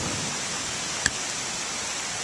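Rain begins falling at a lakeside campsite at Canton Lake, a dense, steady hiss that fills the whole moment, broken only by a single sharp click partway through.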